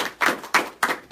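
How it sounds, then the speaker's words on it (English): Audience applause comes as a short run of four sharp, evenly spaced claps, close and fairly loud. "This round of applause is for"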